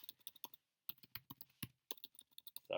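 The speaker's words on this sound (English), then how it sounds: "Sorry about my typing, guys" Clicky keys on a computer keyboard are typed in quick irregular bursts with brief pauses, close and clear in an otherwise quiet room.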